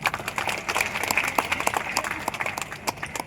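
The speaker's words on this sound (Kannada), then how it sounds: "ಒಂದು ಚಪ್ಪಾಳೆ ಬರಲಿ ಅದಕ್ಕೆ" An audience claps at a taluk-level Kannada literary conference in Saragur, a brisk, dense patter of many hands applauding continuously at moderate volume.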